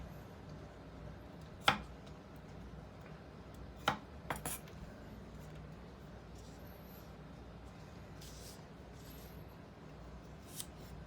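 A Damascus VG10 kiritsuke chef's knife slicing, heard as a few faint, sharp taps spaced seconds apart over a quiet, hushed background.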